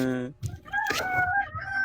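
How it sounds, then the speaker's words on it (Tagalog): Chickens on a backyard farm with young chicks nearby, a rooster crow and clucking sounding close and loud over steady background noise, with a person talking. "Ang daming manok."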